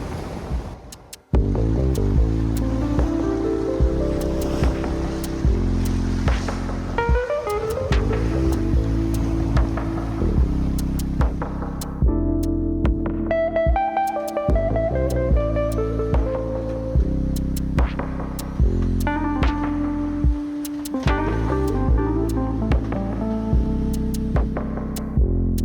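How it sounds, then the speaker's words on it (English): A Hallberg-Rassy 69 yacht sails fast through waves, with steady rushing water and a throbbing hum from the hull, loud and continuous, broken by a few short dips. "We're sailing very fast."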